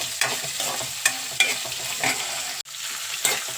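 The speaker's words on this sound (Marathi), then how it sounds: "2 मोठे आकाराचे कांदे हे आपण मस्त सोनेरी रंगावर फ्राय करून घेऊ।" Two large onions frying in a pan until golden, with a steady close sizzle broken by a few sharp stirring scrapes of a spoon.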